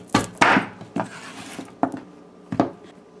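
A knife cuts mango pieces for curry on a wooden board, with five or six sharp, separate chops at an uneven pace, close and fairly loud with quiet gaps between them.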